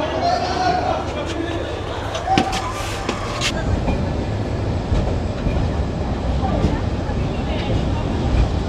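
The Saikat Express pulls away from Dohazari station with steady rumble, scattered clicks and brief squeals, while people talk in the background.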